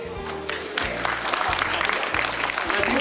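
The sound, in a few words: applause welcoming the host at a banquet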